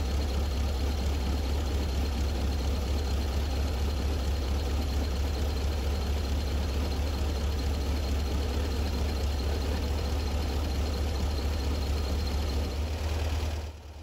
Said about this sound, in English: it's really important to wait until the choke is off and the car's running at its correct idle